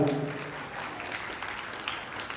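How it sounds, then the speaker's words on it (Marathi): An audience at a Haldi-Kunku women's gathering claps loudly and continuously, a brief burst of dense applause that fades slightly toward the end. "त्यांच्यासाठी एकदा जोरात टाळ्या वाजवा"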